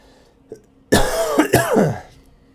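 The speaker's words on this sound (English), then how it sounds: "Sorry for the coughs, you guys." A person at a computer during a gaming stream gives a harsh, close cough and throat clearing lasting about a second, with a brief small rasp before it and faint room hum around it.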